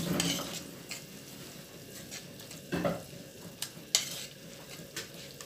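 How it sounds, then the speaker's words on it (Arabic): Carrots and tomatoes with spices are stirred in a frying pan for a shrimp rice dish. A soft sizzle runs throughout, with scattered scrapes and clinks of a utensil against the pan. "الجزر يتشوح مع الطماطم والبهارات، يديله ريحه وطعم جميل جدا"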